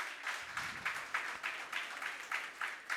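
Audience clapping at a Jain temple foundation-stone ceremony, a soft, distant applause beating in a regular rhythm of pulses, fairly faint throughout.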